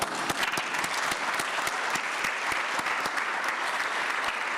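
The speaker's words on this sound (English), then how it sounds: "A big round of applause for this panel." Audience applause closes a conference panel session, a dense, steady patter of many hands clapping at moderate distance and holding evenly for the whole stretch without any talk.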